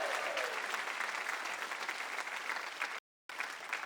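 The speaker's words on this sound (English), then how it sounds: "So give him a big round of applause." An audience claps loudly and continuously, dense applause that breaks off briefly near the end, then resumes.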